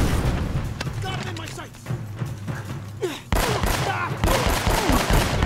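Grenade explosions in Uncharted: Drake's Fortune, booming blasts layered with rapid gunfire, loud and close, while someone speaks over the din.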